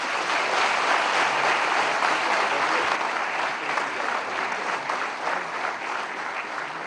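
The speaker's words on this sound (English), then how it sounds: "a huge round of applause again" Seminar audience at IIM Bangalore gives sustained, even applause, dense clapping filling the room at steady loudness for the whole stretch without a voice over it.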